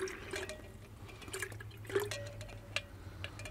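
Water pours into a Petromax fk1 fire kettle outdoors, a faint trickling and dripping with small splashes and hollow plinks, quiet and close, with no speech.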